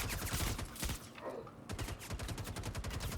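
Rapid automatic gunfire bursts in the Star Citizen video game, dense crackling volleys with a short lull in the middle before the fire resumes, loud and close.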